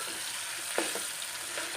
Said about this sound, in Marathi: त्यानंतर टोमॅटो पूर्ण असं हलवत राहायचं भाजून घ्यायचं हे सगळं